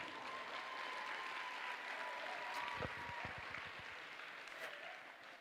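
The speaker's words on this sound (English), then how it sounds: "get a round of applause for all of our adults" A quiet, distant audience claps for the adult team members at a FIRST Tech Challenge robotics qualifier, a faint steady wash of applause with a few louder close claps and a low hum underneath.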